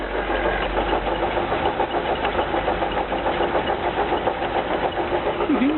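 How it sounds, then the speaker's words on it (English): A Citroen DS running in second gear with the wheels held from spinning, giving a steady close mechanical drone with a rhythmic gearbox whine and knock, continuous and without talk. "And now into second. So I'm stopping the wheels spinning, but the noise is still quite distinct."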